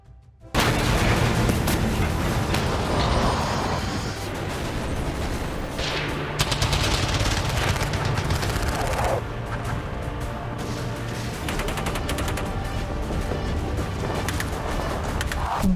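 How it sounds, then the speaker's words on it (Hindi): Military artillery guns fire near a Himalayan frontier in Manipur. Loud, overlapping blasts and booms keep up an almost unbroken barrage, with a rumbling roar beneath them for the whole stretch. "बारूद बरसाती तोपें"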